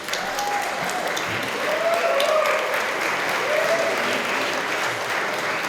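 Applause from the audience at a bunad style show, a loud, sustained patter of many hands clapping, with faint voices and a few whoops rising through it.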